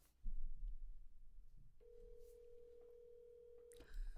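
An outgoing phone call rings through a handset, a faint steady tone holding for about two seconds after soft handling noises, then a click ends it.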